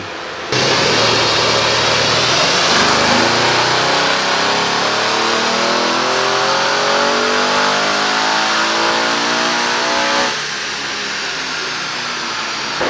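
A Stage 3 Audi RS7 running on E85 roars through a sustained full-throttle dyno pull, the engine note climbing steadily for about ten seconds before easing off.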